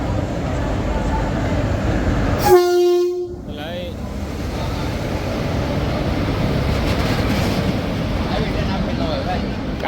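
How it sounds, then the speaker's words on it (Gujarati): A train pulls into a railway platform, sounding a loud horn blast early on, then a steady rumble and clatter of rolling cars continues as it arrives, with crowd noise and voices in the background. "આપણી ટ્રેન આવી ગઈ છે"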